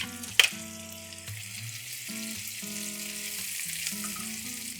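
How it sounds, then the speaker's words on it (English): Boiled potatoes frying with rosemary in a skillet make a steady close sizzle throughout, opening with one sharp clack, under a background of sustained tonal music. "Fry the potatoes till they're nice and crispy and golden and brown"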